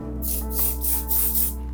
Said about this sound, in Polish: Na przykład mam taki spray wax.